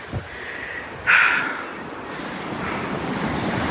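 Rough surf from Tropical Storm Fay washes and roars under steady wind noise, with one louder wave crashing partway through.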